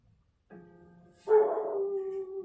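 A dog across the street gives a drawn-out, distant howling bark, starting with a thinner cry and swelling into a louder sustained wail.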